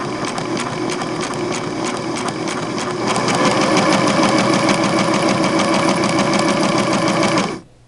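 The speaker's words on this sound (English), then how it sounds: "Now what the machine is supposed to be doing here is going up and down." A Singer 6212C sewing machine stitches steadily at close range, a fast, even rhythmic clatter that grows a little louder and quicker partway through before stopping abruptly near the end.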